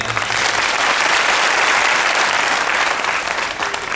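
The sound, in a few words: audience applause at religious katha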